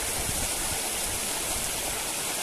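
Water rushes steadily down the Agnane waterfall stream, a dense, continuous close-up roar of flowing and splashing water with no voices.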